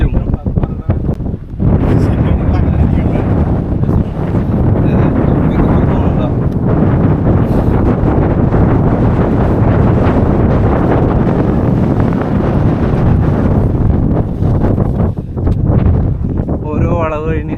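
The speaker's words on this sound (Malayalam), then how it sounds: "കാറ്റ് ഇത് ഭയങ്കര കാറ്റാണ്." Strong wind buffets the microphone on the rocky hilltop of the Madhugiri monolith trek, a loud, continuous roaring rumble with gusty surges, briefly easing near the start and end.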